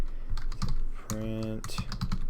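Quick clatter of keys on a computer keyboard, a handful of irregular taps in short bursts, close and fairly clear, with a brief tonal beep in the middle.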